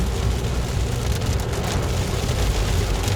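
Heavy rain drums on a car driving home along the road, a dense, loud and continuous hiss of drops hitting the body and windshield, with no voices.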